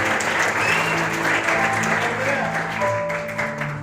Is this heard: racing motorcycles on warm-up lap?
no